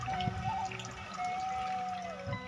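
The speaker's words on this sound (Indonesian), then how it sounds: "Dan di sini di bawah ada sungai kecil ya sahabat. Tuh airnya lihat." A small stream flowing below a village path among rice fields gives a soft, steady trickle of water with faint drips. It sounds close but quiet, with no talking.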